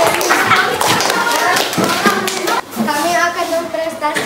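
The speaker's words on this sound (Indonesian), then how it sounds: "Oke, kita beri tepuk tangan." A classroom of children claps in a busy, uneven patter for a couple of seconds. The clapping fades as a voice begins speaking over quieter room noise.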